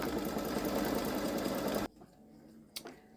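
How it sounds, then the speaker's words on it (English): A Baby Lock Solaris embroidery machine stitches a design with a steady, fast mechanical whir that stops abruptly partway through, leaving a quiet room with one brief knock afterward. "now it's stitching out the second word"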